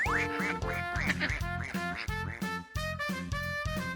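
Ducklings quack over and over in quick, steady bursts, loud and close, with no talk over them.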